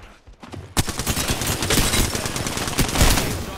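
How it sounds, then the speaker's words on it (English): Video game gunfire rattles in dense, rapid automatic bursts, loud and close, with no pauses over several seconds. "Who the fuck is shooting me?"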